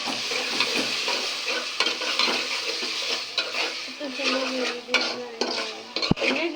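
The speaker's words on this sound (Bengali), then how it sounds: "এই যে আদা রসুন বাটা দিয়ে দিল।" Ginger garlic paste hitting onions frying in a pan, a bright continuous sizzle with stirring scrapes and clinks of a utensil against the pan, ending in a sharp knock, no voices.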